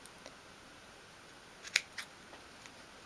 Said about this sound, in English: just make a little snip at the side